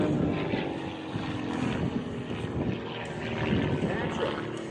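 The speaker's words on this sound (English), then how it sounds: "this little teeny biplane, known as the Pitts 1." A small Pitts biplane flies at an air show, making a continuous, moderately loud propeller drone that swells and fades slightly. Crowd noise or faint voices sit underneath.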